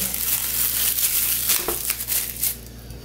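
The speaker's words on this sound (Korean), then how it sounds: "비닐을 좀 씌웠다가요" Plastic wrap crinkles and crumples as it is stretched over a jar of fermented flatfish sikhae in a kitchen, a loud, close rustling that lasts about three seconds.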